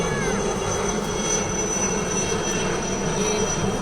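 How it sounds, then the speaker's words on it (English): Military helicopters, an Indian Army Dhruv ALH Block 3 carrying the national flag flanked by two Cheetahs, pass at a military tattoo in Kolkata: a loud, steady rotor and engine roar that fills the whole stretch without pause. "It is followed by the Dhruv helicopter, ALH Block 3, proudly carrying the national flag."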